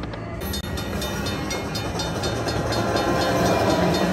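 Rail-themed sound effect from a Cash Express Luxury Line slot machine, a steady rolling train rumble with rhythmic clatter that swells slightly toward the end, heard on its own without talk.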